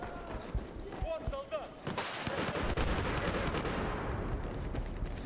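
Shotgun blasts in the Battlefield 4 multiplayer shooter, several sharp loud reports with heavy gunfire and explosions filling the scene, no speech over it.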